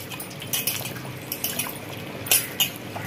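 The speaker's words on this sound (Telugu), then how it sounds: "కొంచెం చింతపండు పులుసు పోసుకోవాలి." Tamarind juice poured into a simmering mutton curry, a few soft liquid splashes and drips, close by and faint.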